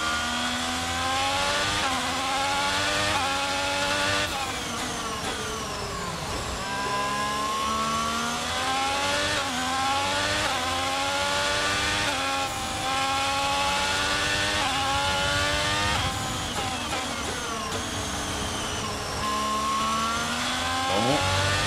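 An Alfa Romeo Formula 1 car with a Ferrari engine races round Interlagos in the F1 2022 video game, its engine screaming loud and continuous as it rises and falls through repeated gear shifts.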